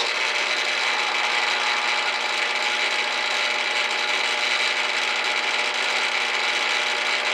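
A steady, high-pitched grinding whir of a thick drill bit hand-drilling metal for a Crosman 2240 air pistol barrel band, continuous and even throughout with no speech.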